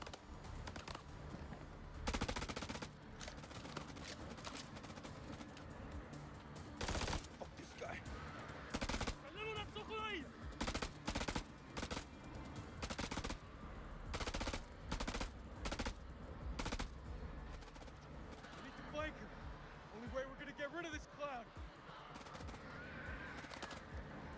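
Gunfire from the video game House of Ashes: loud, rapid rifle bursts and single shots crack again and again over a constant din of battle, with occasional game voices mixed in.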